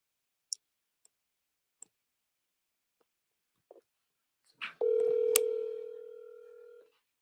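Telephone being dialed with a few scattered key clicks and tones, followed by a single long ringback tone that swells in and fades, fairly quiet with no talk.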